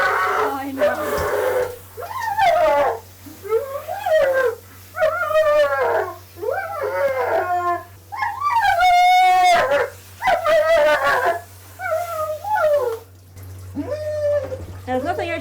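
A German Shepherd cross Staffy whines and howls in long rising and falling cries, close and loud, repeating over and over with short pauses, while a constant low hum runs underneath.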